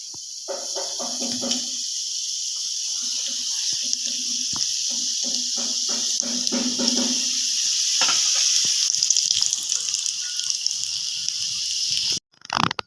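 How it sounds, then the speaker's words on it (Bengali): Five samosas deep-fry in oil over a low flame, giving a steady bubbling hiss with crackling bursts that ease off, then cut out abruptly near the end. "পাঁচটা সিঙ্গারা বানিয়েছি এবার এগুলো ভাজবো বেশি কিন্তু তেল গরম করা যাবে না লো ফ্লেমেই করতে হবে"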